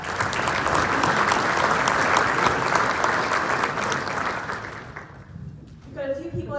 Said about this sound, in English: Round of applause for those sponsors.